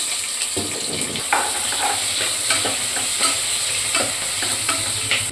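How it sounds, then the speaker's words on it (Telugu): Onions frying in hot oil for mutton biryani, a continuous loud sizzle broken by regular scraping stirs every second or so. "ఇప్పుడు ఆనియన్స్ వేసేస్తున్నాను ఆయిల్ హీట్ ఎక్కినట్టుగా"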